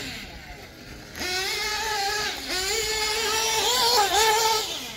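A Dynamite Platinum 21XP nitro RC engine with an OS 2050 tuned pipe runs close by, with a buzzing, rising whine as the throttle is blipped and held at higher revs.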